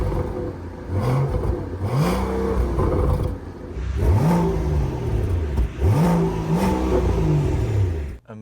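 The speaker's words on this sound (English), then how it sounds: "I will press the button for the engine to start." A 2025 Maybach Brabus 850, a customized S680, revs its engine repeatedly, rising and falling roars in quick succession over a steady idle, close and loud.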